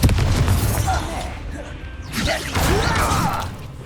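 A Confringo fire spell from Hogwarts Legacy goes off in a booming burst with a whooshing, crashing tail, loud and close, and voices are heard around it.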